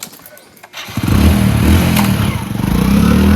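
A motorcycle engine starts with a thump and clatter, then settles into a loud, steady nearby rumble that runs continuously to the end.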